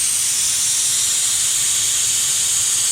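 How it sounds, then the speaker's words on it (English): Steady, loud hiss of steam venting from a pressure canner of turkey gizzards, an unbroken rush that holds evenly for nearly three seconds with no talk. "that's letting some pressure out of there now"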